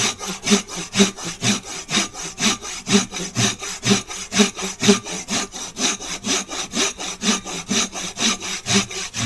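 A hand saw cuts through a hardwood deadfall log during trail clean-up, steady rhythmic back-and-forth strokes, about three per second, close and rasping, with no talk.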